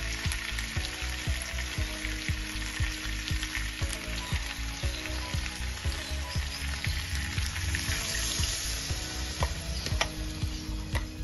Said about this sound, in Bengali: এবার আমি আগে থেকে সেদ্ধ করে রাখা ডালগুলো এর মধ্যে দিয়ে দেবো।